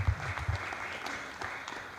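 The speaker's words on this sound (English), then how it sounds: "Another round of applause for the chairperson" A crowd claps together, a quiet, steady patter of applause heard from a distance.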